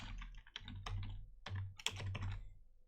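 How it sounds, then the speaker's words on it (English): Password being typed on a computer keyboard, a quiet run of distinct key clicks in irregular bursts, close and faint, with no talk. "And now I'm typing in my password."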